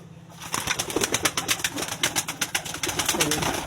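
Pigeons newly let out of their cage after a long time flutter and coo close by, with repeated bursts of wing-flapping in quick rhythm over a busy bird background.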